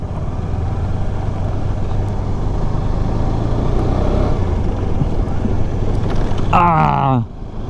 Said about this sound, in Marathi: एवढा आवाज येतो ना गाडीचा,